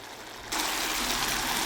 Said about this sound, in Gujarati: આ પાણીનો અવાજ બદલાઈ જાય પછી એને હળવા હાથે હલાવવાનું